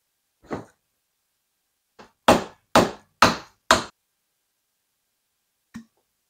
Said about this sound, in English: So we'll dislodge the press fit from the air spring shaft.